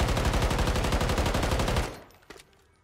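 Sustained rapid automatic gunfire with tracer rounds from Call of Duty MW3, loud and continuous for about two seconds before cutting off, followed by a few faint clicks and rattles.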